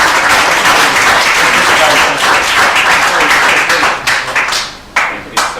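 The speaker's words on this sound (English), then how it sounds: "Give them a round of applause." Loud, thick applause for Irish dancers at a gathering, a dense roar of clapping that holds steady and then thins into separate claps near the end as it dies away.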